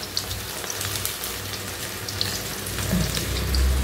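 Spinach pakora frying in hot oil for a Diwali spread, a loud continuous close sizzle with crackling pops that swells toward the end.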